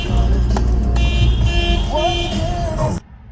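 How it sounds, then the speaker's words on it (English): A parked car's alarm sounds loudly and close by, giving sustained electronic tones with a rising, warbling pitch, then cuts off abruptly near the end. "the car started beeping like that"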